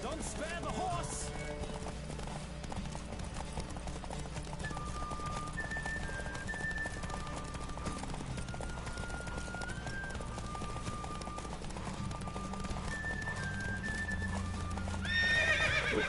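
Rapid hoofbeats of a galloping horse in The Witcher 3 run continuously beneath game music, with whinnies breaking through and a voice speaking over the ride.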